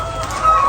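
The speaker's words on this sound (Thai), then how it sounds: "อันนี้เป็นสภาพไก่นะเอาเบิ่งกัน" Chickens on a poultry farm cluck close by in a short burst, with a rooster-like call rising near the end.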